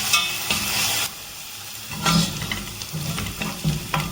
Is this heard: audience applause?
no